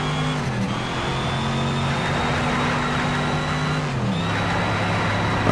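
A Dodge Challenger R2 concept's engine in the racing game NFS: Shift at Silverstone National, a steady loud drone that drops in pitch around the four-second mark as if shifting gear, then holds on.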